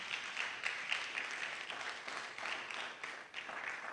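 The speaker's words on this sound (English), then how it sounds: "Let's give our panel a round of applause." An audience at a policy dialogue applauds a panel with steady, moderately distant clapping that continues evenly for a few seconds.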